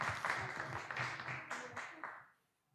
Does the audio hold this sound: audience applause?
yes